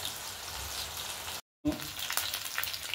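A whole 3 kg katla fish frying in a pan, a loud steady hiss and crackle of oil, briefly cut to silence before the sizzling resumes with splutters.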